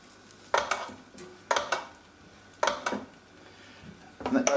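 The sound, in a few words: roasting dish handled, oiled and returned to oven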